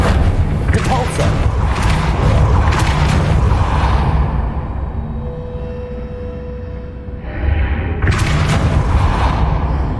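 Spell effect from the video game Hogwarts Legacy, a dense booming blast with whooshing bursts that fill the first seconds, thin out into a quieter tail with a faint tone, then surge again near the end.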